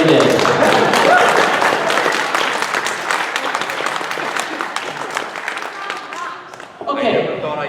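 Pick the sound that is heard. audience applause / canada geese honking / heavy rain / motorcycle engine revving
audience applause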